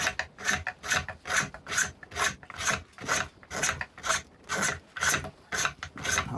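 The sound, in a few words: carver's hook whittling wood surface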